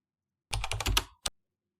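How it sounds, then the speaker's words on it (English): Keys on a computer keyboard are pressed for a Windows R shortcut: a quick cluster of crisp clacks, then a single sharp tap after a short pause, set against silence. "Press Windows R on your keyboard."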